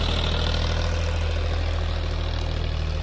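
A Ford 3600 tractor engine idles steadily, a loud, close, continuous low rumble and chug with no talk over it.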